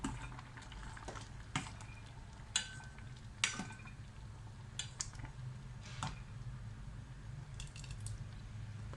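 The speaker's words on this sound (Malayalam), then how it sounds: "ഇനി ഇതിലേക്ക് ഈ തേങ്ങാപ്പാൽ ചേർത്ത് കൊടുക്കുന്നുണ്ട്" Coconut milk stirred into Karkidaka medicinal rice porridge (fenugreek kanji) in a pot, with soft scraping stir strokes and occasional sharper spoon clicks over a low steady simmer, close and fairly quiet.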